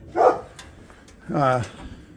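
A dog barks twice, a short yip and then a longer, whining bark, heard at moderate distance with quiet between them.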